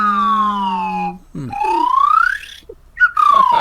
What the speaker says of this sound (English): these guys also have slide whistles on sale